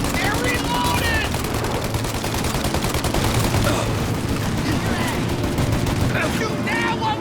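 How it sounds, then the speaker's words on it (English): Dense gunfire in a Mafia Definitive Edition shootout: rapid overlapping shots and machine-gun bursts fire without pause at a loud, steady level, with shouting voices cutting through the barrage. "Shoot out their gun when there's a break in the fire! They're reloaded!"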